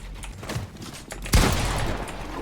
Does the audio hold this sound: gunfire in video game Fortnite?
yes